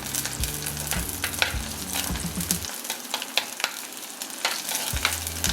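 Curry leaves crackle and sizzle in hot oil for a Kerala-style fish curry, with steady close frying hiss, scattered pops and a low hum underneath; no one talks.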